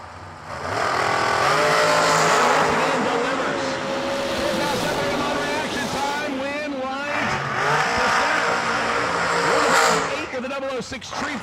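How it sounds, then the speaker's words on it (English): A Ford wheelstanding dragster races down a drag strip at a New Year Nationals event. A loud engine roar rises and falls with revving sweeps, and an announcer's voice runs over it. "The wheel standing dragster will dial 448 on the left side."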